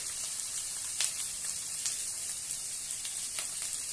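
Tomato and mint frying in oil with cinnamon, cloves and pepper for a country-style chicken sambar, a steady close hiss of sizzling with occasional faint pops and crackles, and no voices.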